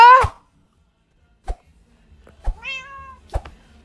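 A cat meows in an Animation vs Minecraft episode, with a sharp, close meow at the start and a longer, drawn-out meow a couple of seconds later. Soft taps and clicks sound in between.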